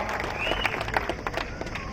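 Crowd at a Congress election rally in Husnabad applauding for candidate Rajender, steady dense clapping with scattered cheers throughout, fairly loud and close.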